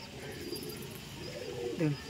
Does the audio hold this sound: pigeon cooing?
yes